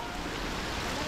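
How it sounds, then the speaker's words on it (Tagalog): Heavy monsoon rain pouring down as a steady, dense broadband hiss, loud and close, with no breaks across the short stretch. "Binabayo kami ng ulan."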